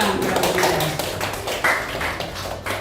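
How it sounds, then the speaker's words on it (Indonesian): An audience of parents at a school talk in Semarang, Indonesia, claps together in steady, moderately loud applause for a few seconds, with a bit of faint voice mixed in. "Baik Bapak Ibu tepuk tangan."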